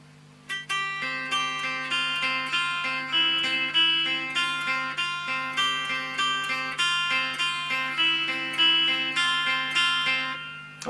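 Guitar playing the intro of a song slowly, with repeated picked notes over a sustained low drone in a steady, even rhythm, played alone and up close.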